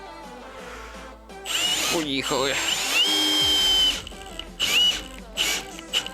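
A Milwaukee M18 FPD2 cordless impact drill whirs in loud bursts driving a screw, driving hard for a couple of seconds, then shorter revs, with someone speaking briefly in between.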